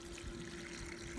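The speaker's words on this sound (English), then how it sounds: "add water" Water poured into a potted Vanda orchid, a soft continuous trickle and splash, faint and close, steady for about a second.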